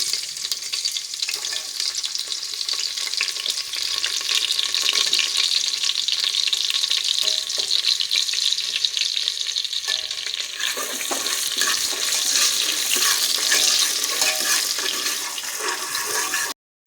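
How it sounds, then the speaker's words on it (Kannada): Onions sizzle steadily in hot oil in a pan for a soya chunks veg biryani, a loud continuous frying hiss with occasional stirring scrapes throughout, no voices. "ನನಗೆ ಇದಿಷ್ಟನ್ನು ಈರುಳ್ಳಿ ಇದಕ್ಕೆ ಹಾಕ್ತಾ ಇದ್ದೀನಿ"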